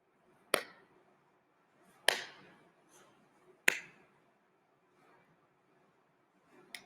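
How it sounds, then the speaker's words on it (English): Hands clap above the head with straight arms during a children's exercise routine. Four sharp, isolated claps ring out about a second and a half apart, with near silence between them. "Keep your arms straight as you clap above your head."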